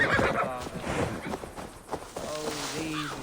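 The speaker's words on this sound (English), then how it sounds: "The horse." A horse in Assassin's Creed Valhalla whinnies in a short, wavering call near the end, after a few soft hoof clip-clops and rustles, fairly quiet overall.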